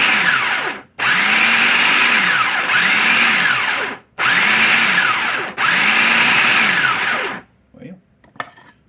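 A food processor grinding pecans for a flourless pie crust runs in loud whirring bursts, pausing briefly twice between long pulses before stopping with a few faint clatters.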